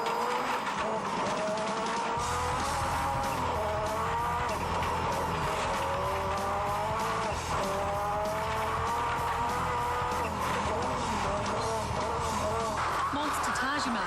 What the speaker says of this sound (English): The 600 horsepower Saab has the grunt to climb the mountain in good time.